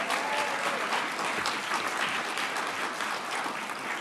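Steady, dense applause from a crowd at a press briefing about the Space Shuttle Endeavour display, continuous clapping holding at an even level throughout.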